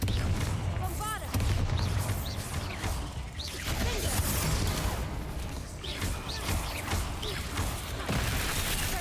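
Confringo and Bombarda spell blasts from Hogwarts Legacy burst in a dense run of booming, crashing impacts, loud and chaotic, with a voice calling out over them.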